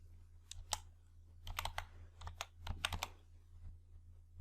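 Typing on a computer keyboard while entering a formula in a Microsoft Excel spreadsheet: irregular bursts of quick, close key clicks over a low steady hum, with no speech.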